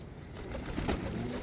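Pigeons in a breeder's loft cooing softly, a few low rounded coos rising from a quiet, faintly noisy background with no voices.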